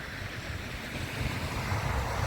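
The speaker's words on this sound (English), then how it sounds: "This is the stream." Steady rushing water of Pedro Creek, a stream near Fairbanks, Alaska, with a continuous broadband wash that grows slightly louder toward the end and a bit of wind noise mixed in.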